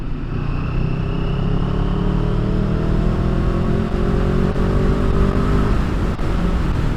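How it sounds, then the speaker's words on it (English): A 2022 CFMOTO 700 CL-X motorcycle pulls away in 4th gear from about 30 mph, its engine drone loud and steady as revs climb slowly, with constant wind rush and no talking. "In 4th gear at 30 miles an hour, and let's pull away and see how it pulls."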